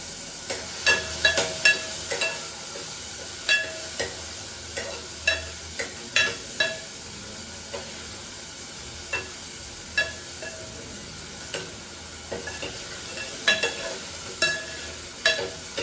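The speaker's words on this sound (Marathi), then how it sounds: "आता टॅमॅटो पण छान परतला गेलेला आहे।" Chopped tomato sautéing in a pan, with a soft steady sizzle and repeated clinks of a spoon stirring and scraping at irregular intervals, close and fairly quiet, no talk.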